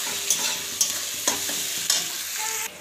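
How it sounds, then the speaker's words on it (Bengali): Salted onion frying in a pan to brown, with a steady sizzle broken by about four sharp scraping stirs at a regular rhythm, close and clear with no voices. "এটা আমি একটু ভালো করে ব্রাউন করে ভেজে নেবো।"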